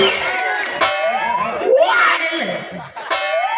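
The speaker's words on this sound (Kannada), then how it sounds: "ಹೊಡೀರಿ ಚಪ್ಪಾಳೆ ಹೊಡೀರಿ" A live audience at a Kannada folk comedy performance in Tikota cheers and shouts in a loud, continuous crowd roar that swells around the midpoint, with voices whooping over the din.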